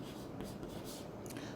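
Chalk or marker scratches across a board during a classroom lecture on pollen-pistil interaction, a few short faint strokes in quick succession against a quiet room.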